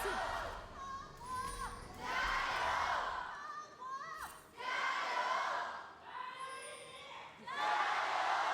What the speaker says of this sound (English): I love to hear the crowd still in it